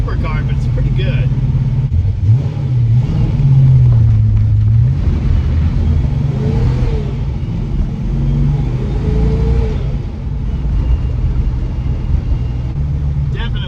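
A rebuilt 1961 Studebaker Hawk cruises on the highway in fifth gear, its engine a smooth, steady low drone with road rumble, while a voice talks over it.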